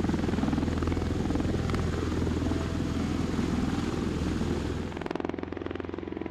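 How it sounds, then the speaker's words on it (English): Loud, steady rotor thumping and engine roar of a V-22 Osprey tiltrotor taking off, continuous and near, with the tone shifting slightly toward the end. "When it comes to taking off, the V-22 Osprey is nothing short of a flying marvel."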